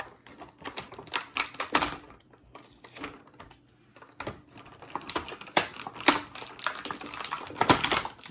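Tape being peeled and pulled from the packaging of a WWE Elite action figure, heard as close, irregular crackling and tearing bursts of plastic and cardboard rustle with brief pauses between them.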